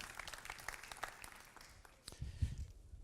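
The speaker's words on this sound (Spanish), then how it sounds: "fuerte aplauso para él." Applause from a forum audience welcomes a speaker, quiet and scattered clapping heard from a distance, thinning out before a few closer thumps and handling noises near the end.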